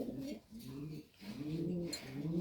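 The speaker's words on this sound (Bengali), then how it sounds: "ইয়োলাইস একটা কবুতর" Pigeons in a breeding loft cooing in a steady run of low, throaty rolling calls, close and fairly quiet, with brief pauses between phrases and no talk.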